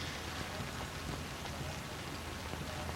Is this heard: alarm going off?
no